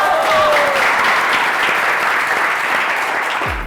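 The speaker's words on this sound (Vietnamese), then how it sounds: "Các bạn ơi, chúng ta hãy dành một tràng pháo tay thật lớn hơn nữa cho đội Taekwondo." Large studio audience applauding the Taekwondo team at a televised martial-arts music competition show, sustained loud clapping throughout with a faint voice briefly at the start.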